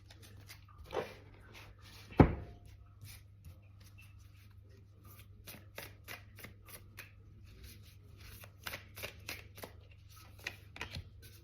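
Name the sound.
tarot cards being shuffled and drawn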